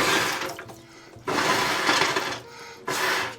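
Two long, breathy rushes of excess water blown out of a trumpet during cleaning, each a loud airy gush with a gurgle, separated by a brief quiet pause.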